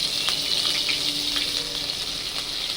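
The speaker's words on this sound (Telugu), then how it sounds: "పోపు దినుసులు మాడిపోతున్నాయండి." Tempering spices scorch in hot oil in a pan for upma, giving a continuous close crackling hiss with small pops and no voices.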